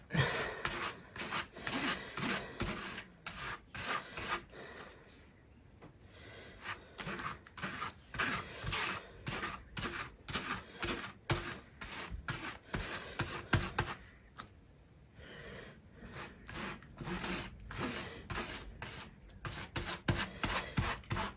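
A brush strokes varnish across a diamond painting canvas in quick repeated bursts of dry, scratchy rubbing, with brief pauses between passes, close and moderately loud, with no speech.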